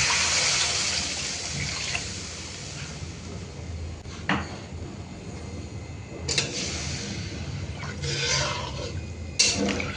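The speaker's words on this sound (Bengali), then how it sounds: "এবার জল ঢেলে দিচ্ছি" Water pours in a steady hissing stream into a pan of egg potato curry over fried spices, with faint clinks of utensils and cookware around it.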